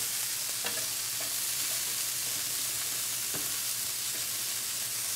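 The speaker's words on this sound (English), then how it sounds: "We're just going to move it around until the chickpeas gets nicely roasted." Chickpeas sizzle and crackle in a hot pan while being stirred, with a steady frying hiss and occasional sharp scraping clicks.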